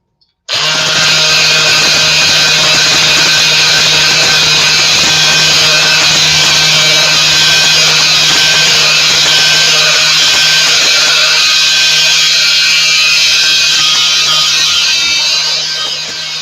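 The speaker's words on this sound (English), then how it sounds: "I just like to just keep buffing that for a few more minutes" A power tool runs continuously while buffing a craft piece, a loud, steady high-pitched whine with a constant hum that starts abruptly and holds for the rest of the clip, with no one speaking.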